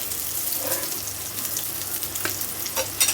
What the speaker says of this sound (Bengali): এই বেগুনটা এত তাড়াতাড়ি মানে হয়ে যায় ভাজা